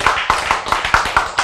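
Audience applause in a Korean church sermon, a short burst of hand claps with uneven, repeated strikes, fairly loud and close, no talk over it.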